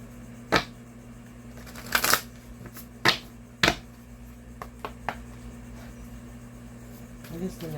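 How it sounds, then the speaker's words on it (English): A deck of oracle cards is given a quick shuffle, with several crisp riffling bursts and soft flicks spaced out over a quiet room hum. "I'm just going to give the deck a quick shuffle."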